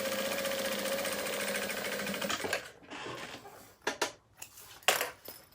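A sewing machine stitches an elastic organizer case in a fast, steady whir for about two seconds, then stops and gives way to a few scattered clicks and handling knocks.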